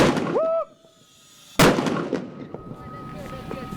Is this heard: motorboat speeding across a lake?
no